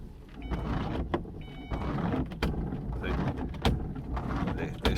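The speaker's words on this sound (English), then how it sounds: "this is what my windscreen wipers generally do" Worn windscreen wipers on a Ford Fiesta XR4 shudder across the glass, making close, juddering scrapes and thumps in uneven bursts over a low motor whirr.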